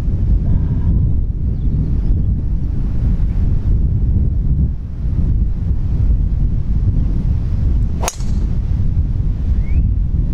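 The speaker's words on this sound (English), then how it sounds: "Jeez, that wind!" Strong wind buffets the microphone on a seaside golf course, a loud continuous roar with steady low rumble throughout, briefly dipping midway, and one sharp click near the end.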